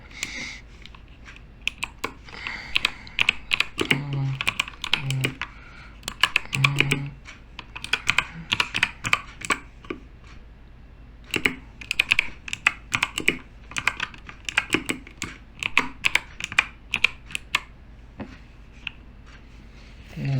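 Steady typing on a computer keyboard, close-up, with rapid irregular bursts of key clicks and brief pauses running throughout, and no speech over it.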